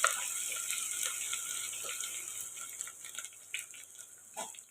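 Crushed ginger and garlic paste frying in oil for a fish curry, giving a faint, steady hiss with occasional small pops and spits.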